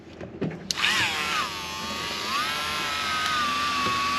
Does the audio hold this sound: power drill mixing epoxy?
yes